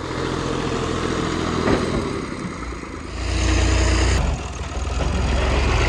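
A tractor engine idles nearby with a steady low rumble that swells louder partway through, a continuous heavy drone with no talk over it.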